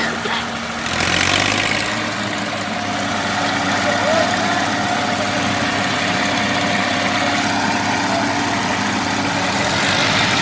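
A Massey 35 tractor hauling a heavily loaded sugarcane trolley while stuck, its engine droning loudly and steadily at close range with a low labouring rumble, and voices are heard in the background.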